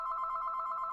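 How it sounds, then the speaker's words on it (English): A mobile phone gives one steady electronic ring tone that stays level and clear for about a second, with no talking over it. "Oh, that's my phone. Hold on."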